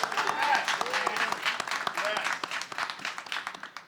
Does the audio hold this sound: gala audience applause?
yes